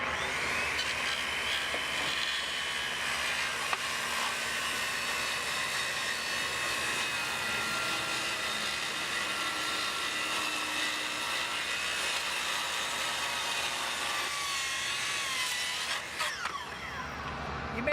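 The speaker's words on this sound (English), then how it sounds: "Wind the skill saw up." A Makita circular saw cuts through wood, a steady loud whine with harsh grinding texture running continuously for most of the span before winding down near the end.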